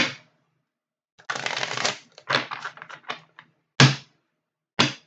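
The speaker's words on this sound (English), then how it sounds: "Do some more shuffles here before I get to the actual cut." Tarot cards riffle and slap together in quick bursts, with short pauses and a couple of sharp taps, close up and fairly quiet.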